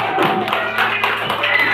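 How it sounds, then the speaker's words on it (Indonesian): Group of students in a Catholic religious education class clapping hands together, a dense, continuous patter of claps with voices mixed in, close and fairly loud. "Yo, tepuk tangan."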